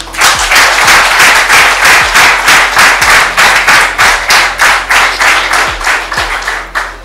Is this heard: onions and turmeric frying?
no